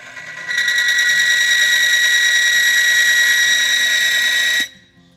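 AFMT extreme pressure friction tester running under weighted load, past what the lubricant can handle, giving a loud, steady high-pitched screech that holds for about four seconds and then cuts off abruptly.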